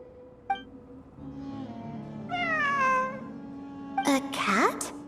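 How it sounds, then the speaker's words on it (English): A cat meows in the Genshin Impact video game: a short mew, then a longer drawn-out meow, then a couple of quick rising calls over a soft steady game music bed. "It really is a cat."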